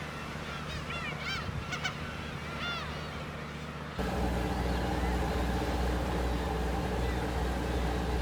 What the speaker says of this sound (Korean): 봄이 끝날 때까지 섬의 주인은 괭이갈매기입니다.